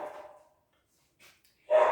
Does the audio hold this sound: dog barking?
yes